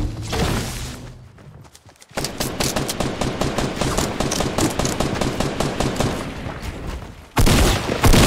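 Gunfire in the Fortnite video game crackles in rapid automatic bursts, a dense stream of sharp shots lasting several seconds, loud and close, with a heavier blast near the end.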